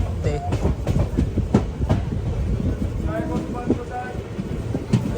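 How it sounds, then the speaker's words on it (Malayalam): A passenger train pulling into Kollam Junction station on platform 2, a loud rumbling roll with rhythmic rail clatter and wind buffeting the microphone, close by, with faint voices underneath. "കൊല്ലം ജംഗ്ഷൻ റെയിൽവേ സ്റ്റേഷനിലേക്ക് ഇതാ നമ്മുടെ ട്രെയിൻ എത്തിക്കൊണ്ടിരിക്കുക"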